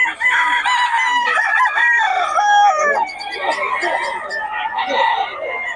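Stag roosters crow one after another at close range with scattered clucking, several birds overlapping in a busy market setting where someone talks underneath.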